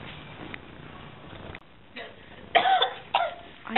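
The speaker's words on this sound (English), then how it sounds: "Sorry, I coughed." A person coughs in a classroom, a few rough bursts close by, mixed with brief speech and quiet room noise.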